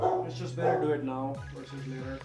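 A dog barks and yips nearby, its sharp calls mixed in with a person speaking over it.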